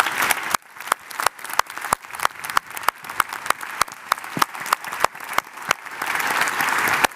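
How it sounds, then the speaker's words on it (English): A conference audience applauding at a closing plenary session, dense sustained clapping from many hands with sharp individual claps standing out, loud and continuous without speech. "Let's please give the warmest round of applause"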